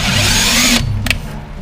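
A power drill whirs loudly up close for under a second inside a Bayliner boat during an amplifier install, then stops abruptly, followed by a brief clatter and quiet room noise.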